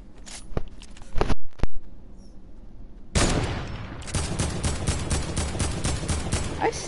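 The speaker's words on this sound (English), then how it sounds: "You're gonna do drum guns only?" Drum gun fire in Fortnite comes as sharp rapid cracks, first a few isolated bursts, then a dense, loud continuous volley of shots, with a voice talking briefly over it.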